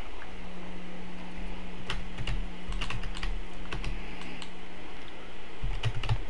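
Computer keyboard keys clatter in quick irregular bursts during gaming, close and clear over a steady low electrical hum, with no talking.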